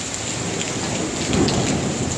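Heavy rain pours steadily in a thunderstorm, with a low rumble of thunder swelling briefly in the middle under the dense hiss of the downpour.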